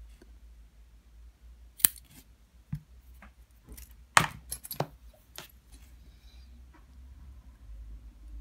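Scissors snipping cotton wick for a Vandyvape Phobia RDA vape dripper, several sharp close clicks spread apart with pauses between, quiet otherwise.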